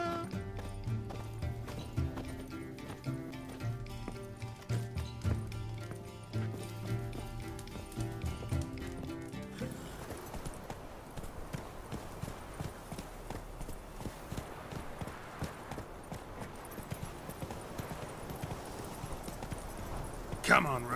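The horse Roach galloping in the video game The Witcher 3: Wild Hunt, with rapid rhythmic hoofbeats running the whole length under music early on, and a person speaking briefly near the end.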